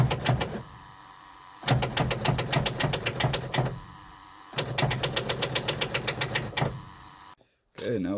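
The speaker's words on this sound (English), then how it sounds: "Okay, I'm going to do a cold start." An old truck that sat unused for two or three years is cold-started, the starter cranking in rapid rhythmic chugs in three long bursts with brief pauses, loud and close, then cutting off.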